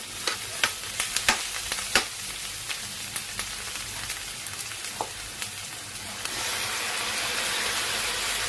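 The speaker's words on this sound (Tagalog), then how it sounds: "Mix natin yung" Tomatoes being stirred in a pot while cooking salmon head sinigang, a steady sizzling bed broken by several sharp spoon scrapes and clicks, then a louder, denser sizzle in the final seconds; no voices.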